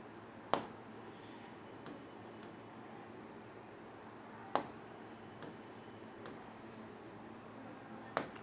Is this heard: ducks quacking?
no